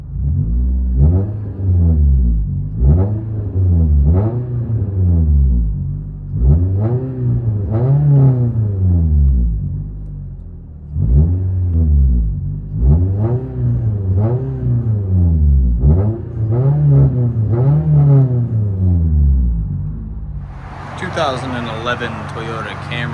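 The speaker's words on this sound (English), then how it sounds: "Toyota Camry LE, straight pipe, muffler delete, resonator delete." A 2011 Toyota Camry LE with a straight-pipe exhaust, muffler and resonator deleted, revs repeatedly, each rise and fall loud and close, ending in a harsher rasping burst.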